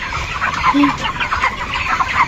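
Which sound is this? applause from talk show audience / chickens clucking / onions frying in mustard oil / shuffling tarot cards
chickens clucking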